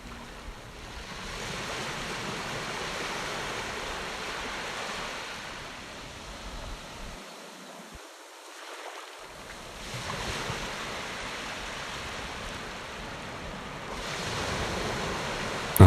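Ocean waves wash in a broad, steady roar, swelling and receding gently over several seconds with a brief dip partway through, and no voices present.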